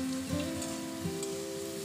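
Cauliflower and potato poppy seed curry sizzling in a pan while being stirred, a quiet steady frying hiss with soft scraping touches and a faint background hum.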